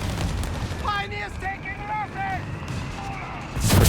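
Artillery time fuse shell exploding in Company of Heroes 3, a deep rumbling blast under battle noise with whistling tones, then another burst at the end.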